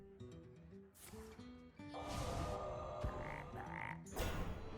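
Frog croaks from the Hex spell in the Hearthstone video game, a few short close croaks layered over the game's music and effects.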